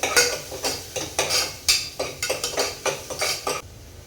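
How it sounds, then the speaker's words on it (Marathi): Onion with crushed ginger, garlic and chilli paste being sautéed in a pan for a soya chunks curry, heard as a run of rhythmic utensil scrapes and clinks against the pan, close and steady, with only a soft sizzle beneath and no talking. "वाटण सुद्धा ना कांद्यासोबत छान परतून घेणार आहे"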